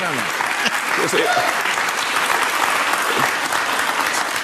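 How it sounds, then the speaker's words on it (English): Dense audience applause fills the whole stretch at a steady, loud level, with a few voices faintly audible underneath. "Listen to the applause."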